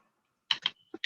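Frozen water crackles and pops in a few sharp, quiet clicks, one pair close together, then two more after a short gap, against near silence.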